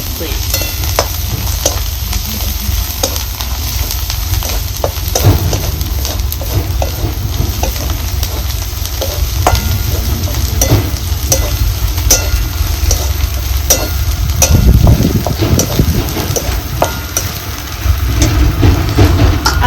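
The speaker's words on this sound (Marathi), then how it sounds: "आता ही टिचून घेतलेलं लसूण लसूण खोबरं ह्याच्यात भाजून घ्यायचं आपल्याला लसूण खोबरं बी चांगलं भाजून घ्यायचं" Crushed garlic and dried coconut roast in a pan with a loud, continuous sizzle and frequent scraping stir strokes throughout, alone without talk.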